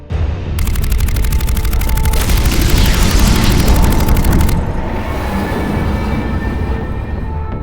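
Starship weapons fire in Mass Effect 3 space combat. A loud, rapid mechanical volley rattles for about four seconds over a deep rumbling boom, then gives way to a sustained low roar and hum.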